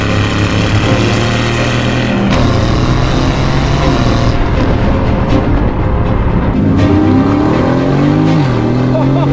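A loud Aston Martin Vantage engine revs and drops through downshifts into a hairpin, pitch stepping up and down, with a voice faintly underneath.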